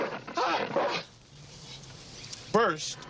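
A dog gives a couple of short whiny barks in a comedy film scene, one near the start and one near the end, with a quieter stretch between them. People talk alongside the barks.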